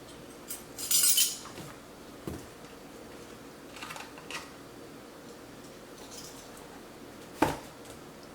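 A metal measuring spoon clinks and scrapes while scooping baking soda for buttermilk pancake batter, with one bright rattling burst early and a sharp tap near the end, over quiet kitchen background.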